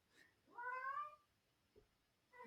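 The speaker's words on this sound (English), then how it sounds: "There's the cat down there." A cat howls somewhere below, a single drawn-out rising and falling meow, faint and distant, followed by a brief small sound and the start of another cry, with no talking.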